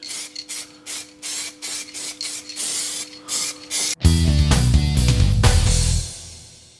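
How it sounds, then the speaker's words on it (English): A spray can hisses in repeated short bursts, coating a cleaned brake part from an old Harley-Davidson Sportster motorcycle, before a louder, fuller mechanical roar takes over near the end and then fades. "now I'm gonna give it some paint so it looks a bit better."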